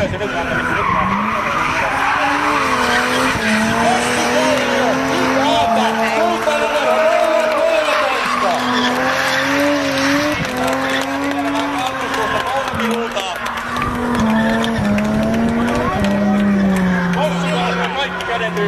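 A car skids around a racing track, its long tire squeals wavering and sliding in pitch almost without a break, loud and close, with a crowd and excited talking underneath.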